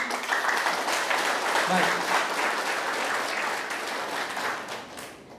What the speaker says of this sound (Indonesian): Kita beri aplaus yang meriah sekali lagi.